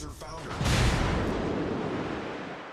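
In World of Warships, fire from the cruiser Phoenix lands on a ship: a close, heavy boom swells after a brief lead-in, then a long rumbling decay, with game noise underneath.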